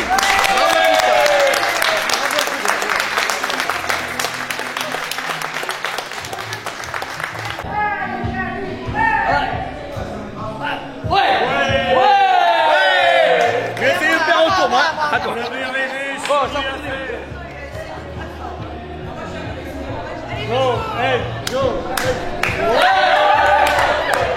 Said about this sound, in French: on tient un tonnerre d'applaudissements pour toi